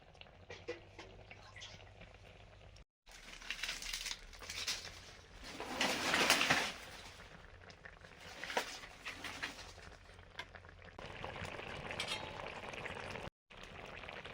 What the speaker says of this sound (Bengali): দুদিকে দুটো রান্না হচ্ছে, টক তো ফুটে গেছে